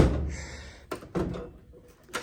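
A drawer on a US General 72-inch tool box, worn after years of heavy tools, slides and bumps closed with a few short metallic thunks and knocks, close by, without latching.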